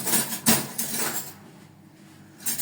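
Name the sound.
stirring macaroni with two spoons in a pot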